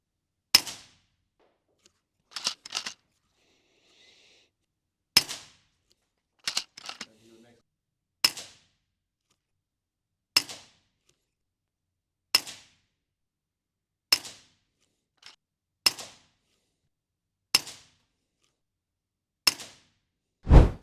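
Shots from an FX Impact M4 air rifle fired one at a time at a target, a sharp close crack roughly every two seconds, some followed by a faint extra tick, with quiet in between.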